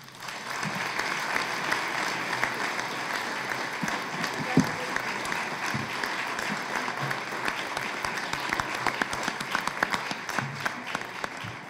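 Sustained audience applause for newly sworn-in Freeholders at a Union County, New Jersey installation ceremony, even and moderately distant, continuous clapping with no speech over it.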